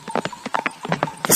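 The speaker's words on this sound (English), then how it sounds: "the horse ran away" A horse bolting from a farm stable, its hooves clip-clopping in a quick uneven rhythm of sharp, close strikes.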